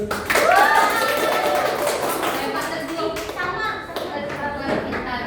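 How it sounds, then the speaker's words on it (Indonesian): Children in a classroom clap for a classmate, a burst of sharp hand claps and taps mixed with kids' voices and chatter, fairly close and lively. "Boleh tepuk tangan Teguh"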